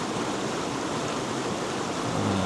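Rushing water from a waterfall and brook at Wyming Brook in the Peak District, a steady broadband wash of flowing water, close and continuous with no voices.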